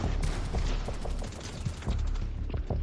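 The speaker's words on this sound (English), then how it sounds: "this pump shotgun, man, it's doing the job" Pump shotgun fire from Fortnite gameplay, a rapid series of sharp blasts with mechanical clatter, fairly quiet overall and with almost no speech.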